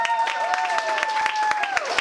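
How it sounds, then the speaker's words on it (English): Comedy club audience clapping at a live stand-up show, scattered sharp hand claps over a sustained tone, with some voices under the claps. "Clap for Lisa"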